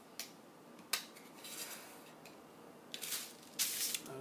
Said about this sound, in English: Just continually just do cuts until the blade is completely through the placemat.